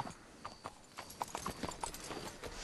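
Horses' hooves clip-clop at a slow walk in the video game Red Dead Redemption 2, a faint, uneven series of hoof knocks over a soft outdoor ambience.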